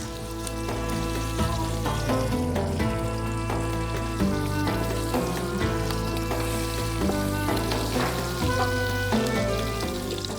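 Steady, dense sizzling of chicken frying in hot oil in a pot, loud and continuous throughout with no voices.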